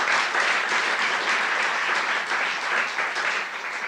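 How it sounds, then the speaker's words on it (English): Applause from the audience at a closing session of an arts event, dense continuous clapping with a bright, even texture, fairly loud and sustained for the whole stretch without talk. "Round of applause."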